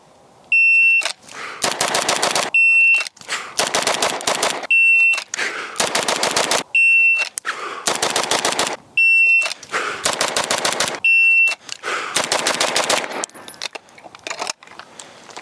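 Six-shot bill drills fired at 7 yards from a Safariland duty holster. Each string is a rapid burst of sharp, loud pistol cracks, and a shot-timer beep starts it. The strings repeat several times with short pauses between them.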